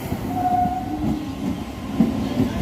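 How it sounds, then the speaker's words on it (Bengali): An Amta-Howrah local train passes on a single-line track with a low, steady rolling rumble and faint clicks, a short tonal squeal rising briefly above it, heard without talk. "এই ট্রেনটার ক্রসিংয়ের কারণে আমাদের ট্রেনটা দাঁড়িয়েছিল"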